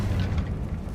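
A Confringo blasting spell explodes in Hogwarts Legacy, a single short, loud, dense burst with deep rumbling low end that fills the whole moment.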